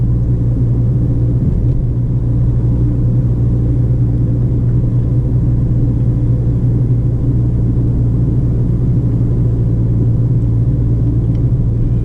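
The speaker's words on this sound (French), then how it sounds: "Je peux accélérer pour aller jusqu'à 50 km/h" A car pulls away and builds speed toward 50 km/h on a town street during a driving test in Laval, its engine a steady low rumble with road noise that holds close and even throughout, with no voices.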